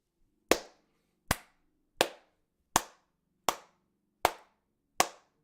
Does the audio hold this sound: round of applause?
yes